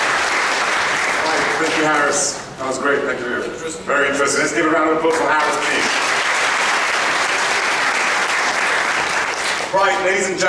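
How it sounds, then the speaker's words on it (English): Loud, sustained applause from a conference audience fills the room, steady clapping with a brief dip midway before swelling again. "Let's give a round of applause for Harris, please."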